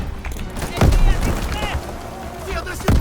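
Suppressive gunfire in Call of Duty WWII: a few sharp, heavy shots crack out at irregular intervals among battle noise, with voices talking in between.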